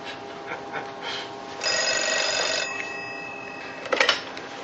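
A telephone rings with a bright, steady tone lasting a couple of seconds, preceded by faint background sounds and followed by a brief louder burst of clatter.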